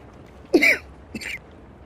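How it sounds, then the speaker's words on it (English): A single short cough with a quick second catch, close and clear against quiet background hiss, from someone fighting off a cold. "Sorry, that was a cough."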